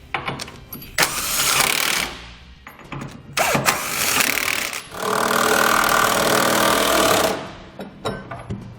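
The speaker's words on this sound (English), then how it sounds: "We'll now tighten down all of our hardware using a 1-inch socket" Impact tool rattling in long bursts while tightening bolts with a 1-inch socket on 5th wheel hitch base rails for a Demco Autoslide mount on a 2018 Chevrolet truck, loud and close with short pauses.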